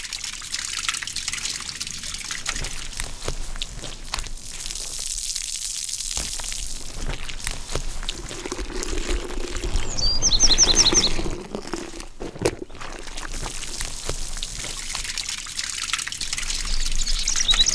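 Soapy water trickling steadily down a street gutter toward a creek, a soft continuous flowing hiss with a few faint bird chirps in the background.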